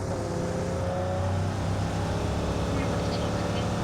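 A vehicle drives in the mobile battle royale game BGMI with a continuous, steady engine drone at moderate level, as players talk over it in the background.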